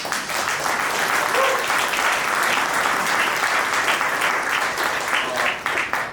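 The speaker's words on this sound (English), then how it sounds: "give him a round of applause for that" Audience at a conversation event applauding steadily, a dense wash of clapping that holds at an even level throughout.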